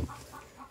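Chickens cluck softly nearby in a brief, low burst of fowl sounds.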